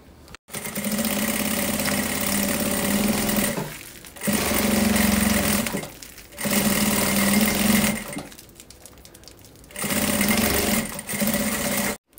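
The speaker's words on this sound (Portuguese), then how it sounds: "passando uma costurinha o mais próximo possível da cremaleira com esse mesmo calcador" A sewing machine stitches a seam close to a zipper on a thermal bag, running in loud, steady mechanical bursts of a few seconds each, separated by brief stops, with no talk.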